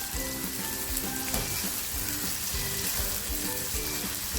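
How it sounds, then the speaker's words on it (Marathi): Onion and cluster beans fry together in a pan for a dhaba-style vegetable dish, a dense, constant sizzle with a rhythmic scraping pattern as the mixture is stirred, close and even throughout. "आता हे नाही थोडा वेळ आपल्याला फ्राय करून घ्यायचं आहे कांद्याचा कच्चापणा निघाला पाहिजे"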